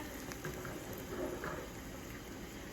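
Water with oxtail bubbling gently in a pot, a steady low simmer with soft burbling throughout, fairly close and moderately quiet.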